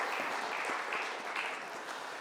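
A church congregation claps during a Sunday worship service, a steady wash of applause from many hands heard from some distance, continuous for a couple of seconds.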